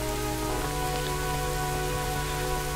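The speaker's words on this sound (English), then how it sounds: "for some reason the rain stops and it's getting light again" Rain falls steadily in the Ocarina of Time video game, a constant soft patter laid over sustained tonal game music.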